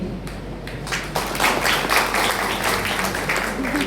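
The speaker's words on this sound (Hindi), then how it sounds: "कृपया तालियों की गड़गड़ाहट से स्वागत कीजिए" An audience at an anchoring event claps in applause, starting with a few scattered claps and building into a moderate, steady round.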